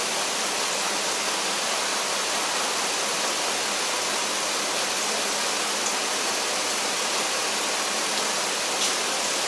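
An 8-cylinder engine with a misfiring cylinder idles in a constant, dense hiss-like drone, steady and close, with no voices and no clearly audible stumble.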